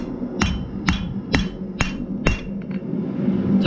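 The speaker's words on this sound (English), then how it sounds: "Get right here, find my notch, hammer straight down" A blacksmith hammers steel stock for a bottle opener, with five sharp, ringing hammer blows landing at a steady, roughly half-second rhythm, close and loud, over a low workshop hum.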